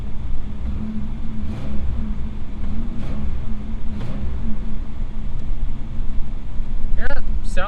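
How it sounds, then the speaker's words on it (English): A used Pontiac Firebird with a suspected exhaust leak has its engine revved in a few repeated surges over a steady rumbling idle, close by, with people talking throughout. "I guess we can go ahead and rev it and see what happens."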